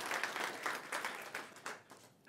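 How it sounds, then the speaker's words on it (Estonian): Audience applause for Kevin at an open data forum award ceremony, a soft, fairly distant round of clapping from a crowd that gradually thins out. "Aplaus veel kord Kevinile."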